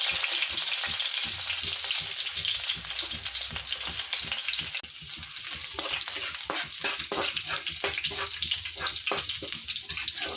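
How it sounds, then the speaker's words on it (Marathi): Garlic and crushed peanut powder sizzle and crackle in hot oil, a busy, continuous frying hiss with rapid popping, close to the pan throughout. "लसूण, शेंगाचं कूट, तेल गरम करायला ठेवलं."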